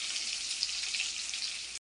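Chopped onion dropped into hot oil with green chillies, giving a brief, bright, steady sizzle that cuts off abruptly.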